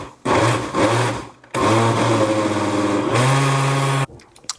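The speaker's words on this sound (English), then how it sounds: "Just gonna put it in the blender." A blender whirs loudly as it purees homemade dog food, running in two short pulses and then one longer continuous run, its motor pitch settling as the mix blends, before it cuts off abruptly.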